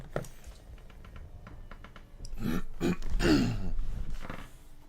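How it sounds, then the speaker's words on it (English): A man clears his throat at his computer before starting a livestream, a couple of close, rough guttural rasps following light keyboard tapping. "the second I hit live, I have to clear my throat"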